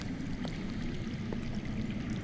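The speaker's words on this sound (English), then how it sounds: "That's water. I hear water. From underground." Underground water flows and gurgles in a Game of Thrones video game, a continuous low rushing stream with small trickling splashes, steady and fairly close.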